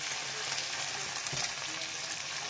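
Browned chicken with fried tomato sizzles steadily in a pan while a sauce is made, a continuous soft crackling hiss with a brief stirring scrape midway, no talking.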